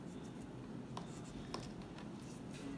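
A marker pen drawing over pencil lines for a caricature, its faint steady scratching strokes running through the whole stretch, close and quiet over a light hiss.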